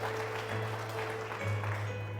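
A church congregation claps in praise to the Lord, a brief steady patter of applause held over a low sustained hum from the room.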